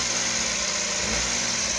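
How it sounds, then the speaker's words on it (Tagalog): Suzuki DA63T Multicab engine running at high RPM with a fast idle fault, a steady close engine drone with a high whine, continuous and without talk. "So pansinin nyo yung makina, yung tunog."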